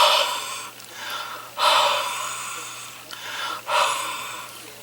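Breathing onto a rubber stamp to refresh dried ink: three or four close, airy exhaled huffs in a slow, even rhythm, alone.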